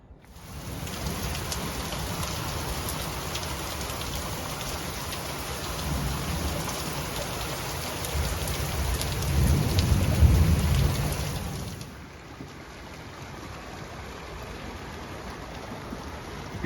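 Steady heavy rain beats down around a cabin, with a low rumble of thunder swelling near the middle before the downpour drops to a softer hiss.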